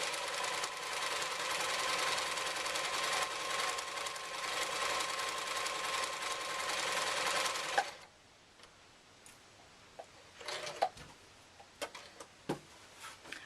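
A sewing machine runs continuously for about eight seconds while seaming the edge of a fabric project bag, then stops, leaving quiet handling clicks and taps.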